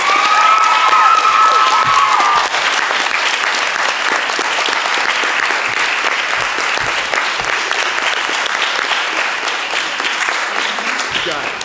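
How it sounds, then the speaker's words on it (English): A school audience at a St Timothy's School performance breaks into loud, sustained applause mixed with cheering and children's shouts, filling the room steadily for about twelve seconds before easing slightly at the end. "we give a big round of applause both to Mr. Farmer and to Miss Murphy Archer"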